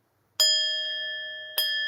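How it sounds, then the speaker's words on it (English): A small ritual bell struck twice without its usual striker, each strike a clear ringing tone that decays slowly, the second strike coming about a second after the first. "Actually, I got the bell, but not the gong for the bell."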